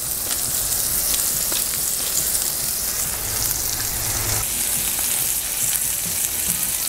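A thin smash burger patty seasoned with garlic salt and black pepper sizzles and fries steadily on a Blackstone griddle, a loud, continuous crackling hiss with no talking.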